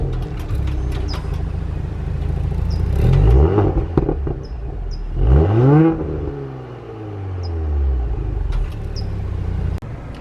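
A car's warm engine cranks and catches, then revs up in rising whines and pulls away, with gear-change swoops and a steady rumble throughout, close and loud, with no voices.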